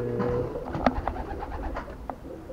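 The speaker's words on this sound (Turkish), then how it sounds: "Kuşlar burada arkadaşlar" Pigeons coo softly amid a busy background of rustling and clattering, with a few distinct bird calls close by.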